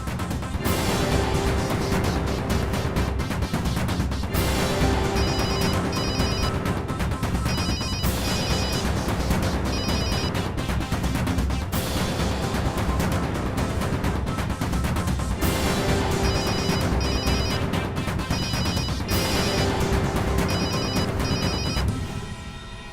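A phone ringtone plays continuously, a repeating electronic melody looping over and over at steady volume without talk.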